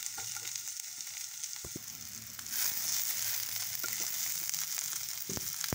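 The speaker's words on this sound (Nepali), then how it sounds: "टमाटर पनि राख्छु यसमा हामी।" Tomato frying in a pan for matar paneer, a soft steady sizzle that swells a little louder midway, with a few light clicks of stirring and no talking.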